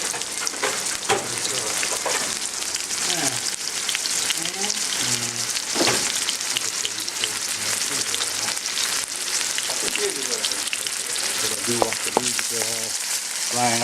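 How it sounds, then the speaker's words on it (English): Onions sizzle and fry steadily in a pan for chicken nuggets cacciatore, a continuous crackling hiss with occasional clinks of stirring, close and alone without talk. "You want that onion nicely fried."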